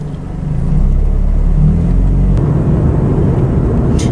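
A car drives steadily with the camera rolling inside the cabin, producing a loud, continuous low engine and road rumble that holds even throughout, with no talking.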